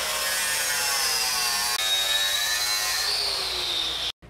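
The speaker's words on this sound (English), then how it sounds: "Mark this, and then we're going to attack it with the grinder." A grinder works steel, clearing rust and scale, with a loud, continuous high whine that slowly drops in pitch under load before cutting off abruptly at the end.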